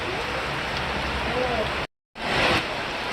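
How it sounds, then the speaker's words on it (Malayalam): Heavy rain pouring steadily in Kerala, a dense, loud hiss of drops on surfaces that fills the whole clip, broken by a short gap of silence. "എന്തിട്ട് മഴ അത് ഒരു രക്ഷയില്ലാട്ടാ. കഴിഞ്ഞ അരമണിക്കൂറായിട്ട് നിർത്താണ്ട് പടയ്ക്കാ."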